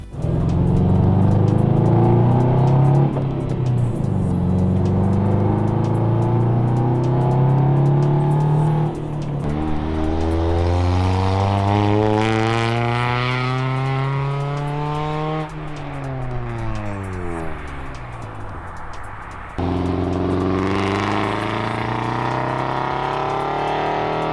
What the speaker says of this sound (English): So now we're gonna take it for a little drive, see what happens, see how we think it sounds